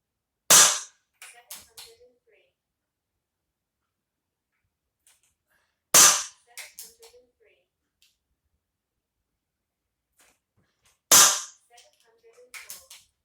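An air rifle fires heavy .177 or .22 pellets through a chronograph three times, about five seconds apart. Each shot is a sharp, loud crack followed by small mechanical clicks and rattles, with no speech.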